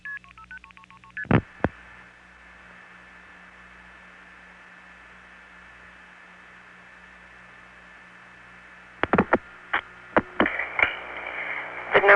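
Telephone dialing of 258 on a 1977 XY step-by-step exchange in Sanford, North Carolina: a short tone burst and two sharp clicks, a long steady hum with a faint high tone, then a rapid cluster of clicks and switching noise.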